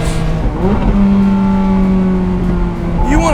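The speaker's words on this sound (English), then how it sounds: "listen to these downshifts." Ferrari Speciale sports car downshifting, the engine blipping and rising in quick bursts between gears, then settling into a sustained loud drone, close by.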